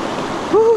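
A river stream at Camp Pebble Creek rushes in a steady close wash, broken near the end by a brief voice.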